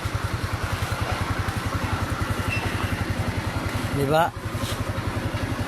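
A motorcycle engine idles with a steady, rapid low putter that runs throughout, close to the microphone, with a person talking over it and a brief disturbance near the end.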